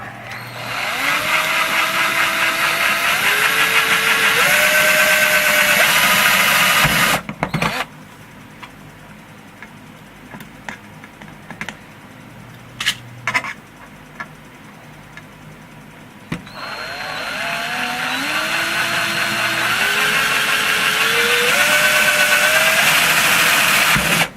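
A power drill bores a hole through the case of an original Xbox console resting on a wooden block on a workbench, with a loud steady whine that rises in pitch, stops for a quiet pause with faint clicks, then starts again.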